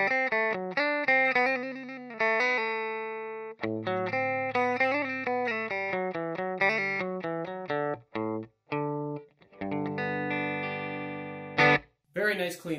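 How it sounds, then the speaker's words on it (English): Clean electric guitar played through a Crate 4x12 speaker cabinet, with a bright Fender-like tone: picked single notes and chords ring out in phrases with short gaps, close and clear, and no talking is heard. "Very nice clean sound."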